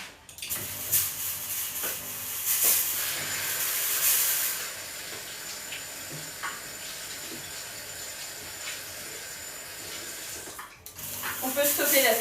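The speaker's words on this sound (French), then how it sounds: "On peut stopper la fumée là, c'est bon." A Thermomix TM6 releases steam in a steady, loud hiss lasting several seconds, with brief kitchen clatter and a short break near the end.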